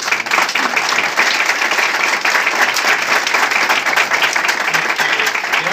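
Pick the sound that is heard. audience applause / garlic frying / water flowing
audience applause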